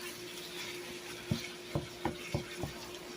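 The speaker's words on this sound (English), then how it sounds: "We're going to let this simmer." Sloppy joe meat made from frozen ground beef simmers in a pan with a low, steady sizzle, broken by several soft scraping knocks from a spoon or spatula.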